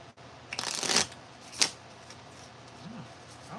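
Tarot cards being shuffled by hand, with two crisp riffling bursts near the start and middle and quieter rustling in between, close and alone.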